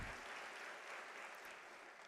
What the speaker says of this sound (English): Can we give an applause to our sign language interpreter